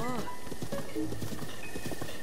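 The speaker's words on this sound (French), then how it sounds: "Je sais que c'est dur, la vie de cheval" Horse hooves clip-clop steadily in The Legend of Zelda: Breath of the Wild, running under someone talking and tonal game music.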